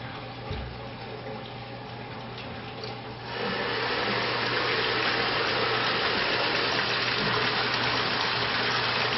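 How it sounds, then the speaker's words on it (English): Leftover water drains out of a pipe on a thermostatic mixing valve test rig, a steady rushing gush that grows fuller partway through and continues strongly, with a low hum beneath. "now we're just emptying out what's left over in the pipe"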